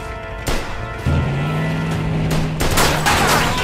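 Gunfire rattles through a shootout in Mafia II, sharp loud bursts and shots punctuating a running engine drone, with several cracks clustered near the start and end.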